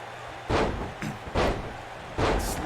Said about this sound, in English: Slamming her opponent to the mat.